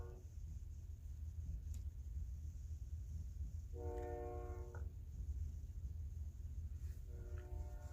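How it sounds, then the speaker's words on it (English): A train passes outside under a constant low rumble, with two distant horn blasts, one around the middle and a shorter one near the end. No voices are present. "do you guys hear the train outside?"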